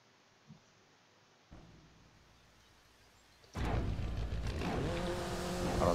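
A car races in FlatOut 4 with a loud engine that surges in after a quiet stretch and a couple of faint knocks, then roars and climbs steadily in pitch as it accelerates hard, with no talking.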